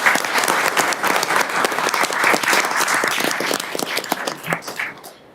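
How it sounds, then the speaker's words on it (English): Audience applause at a city council meeting, a lively round of close, crisp hand claps from a modest crowd that stays steady for several seconds and then tapers off at the end. "let's give them a round of applause"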